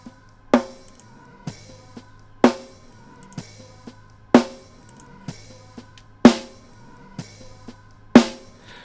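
Layered snare drum samples built into a mix, including a hard snare, hitting in a steady groove about once a second, with sharp bright cracks over a low sustained bass tone, punchy and close.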